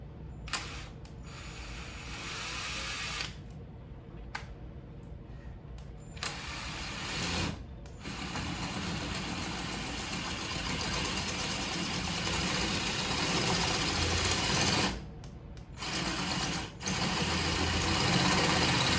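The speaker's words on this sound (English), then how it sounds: "So I'll have a go at this and see if I can get these holes drilled out." Power drill boring holes through swivel speaker mounts, a steady mechanical whir running for long stretches with several brief stops and restarts, close and fairly loud, no talking.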